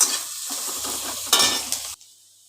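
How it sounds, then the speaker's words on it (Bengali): Onions frying in a pan and being stirred, a steady close sizzle with scraping spatula strokes that stops abruptly near the end; no talking. "এবার একটু ভাজা ভাজা করে নিই পেঁয়াজটাকে"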